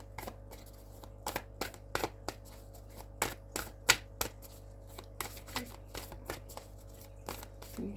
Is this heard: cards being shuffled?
yes